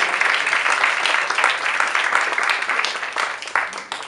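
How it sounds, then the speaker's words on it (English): Supporters applaud loudly and close by at a candidacy announcement rally, a sustained round of vigorous clapping from a crowd that stays strong for about four seconds. "Absolutely, round of applause."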